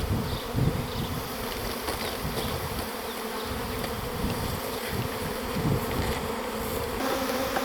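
Large swarm of honey bees around a hive outdoors at a château, heard as a dense, continuous buzzing drone of many wings, steady and fairly close, with no talk.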